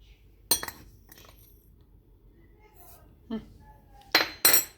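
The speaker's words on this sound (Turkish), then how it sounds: "Şimdi güzelce çırpacağım." A whisk clinks against a metal pot while cream sweetened with sugar and thickened with starch heats on the stove, giving a few sharp, scattered metallic taps with quiet pauses between.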